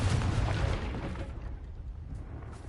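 A Confringo spell blast erupts in Hogwarts Legacy, a loud deep explosion with rumbling low end that fades gradually over a couple of seconds.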